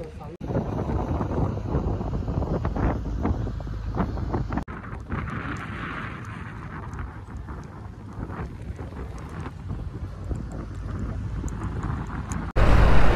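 Ferry boat Avantika crossing the Savitri river mouth where it meets the sea, with steady wind buffeting the microphone over a low engine and water rumble throughout, and a voice talking over it.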